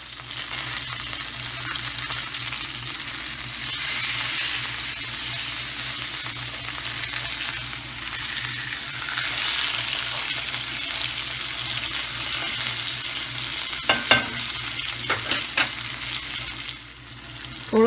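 A chicken quesadilla fries over medium-low heat in a tablespoon of oil in a pan, giving a steady, close sizzle that carries on throughout, with a few small clinks near the end and no voices.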